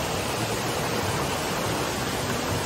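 Water flows at Baluon Pool waterfall in Libertad, Antique, a constant, dense rushing hiss that stays even and close throughout with no voices.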